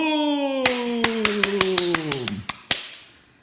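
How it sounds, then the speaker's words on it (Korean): A school class starting a math lesson claps about a dozen sharp times in a quick rhythm that slows toward the end, over a sustained falling tone, then the sound fades. "박수!"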